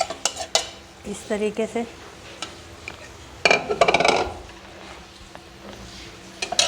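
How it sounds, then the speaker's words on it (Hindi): Marinated keema, coated with yogurt and spices, is tipped into a cooking pot in a home kitchen, giving scattered metallic clinks and scrapes of utensils against the pot, with a denser burst of clattering midway and a brief spoken phrase near the start. "अब हम इसको बर्तन में शिफ्ट कर देंगे अपने इस तरीके से। पतीली में हम डाल देंगे"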